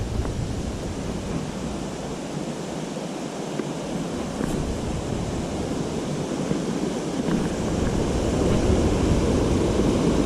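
Constant rushing water, full and close, like a stream flowing over rocks at a trail water crossing on Huskey Gap Trail, with a slight swell in loudness toward the end; no voices.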